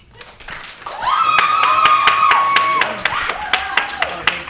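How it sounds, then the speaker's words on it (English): Audience clapping for an applause vote at a BroadwayCon panel on Cats, a crowd clapping with rhythmic claps while people cheer and shout over it, tailing off into scattered single claps. "So we're going to do it by applause."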